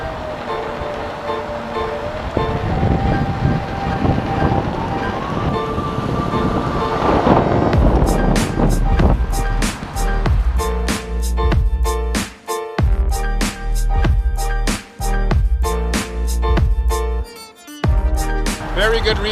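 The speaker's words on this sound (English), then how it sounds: "Oh my gosh, it's so windy." Strong wind buffets a microphone outdoors on a city street, a loud continuous rumbling roar for several seconds before rhythmic music takes over the rest of the clip.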